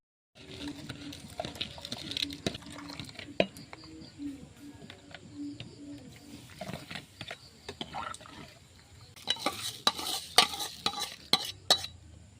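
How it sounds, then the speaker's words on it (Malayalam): Onions and green chilies are stirred in a pot on a home stove, a spoon scraping and clinking against the metal in irregular bursts over a soft sizzle, busiest toward the end. "നമ്മൾ ഉള്ളിയും പച്ചമുളകും ഞാൻ ഇളക്കി കൊടുക്കാം."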